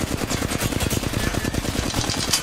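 Rapid automatic gunfire in the Apex Legends video game, a fast, steady burst of evenly spaced shots at close range that runs unbroken for a couple of seconds.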